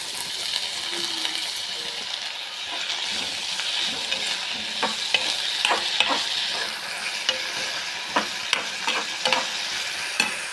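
Onions softening in a pan for a crab leg curry, a steady hiss of sautéing with occasional sharp taps and scrapes of a spoon against the pan, close and continuous, no talking.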